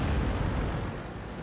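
Enemy artillery fire lands in one loud, sustained, deep rumbling blast that fills the whole moment with heavy low-end roar.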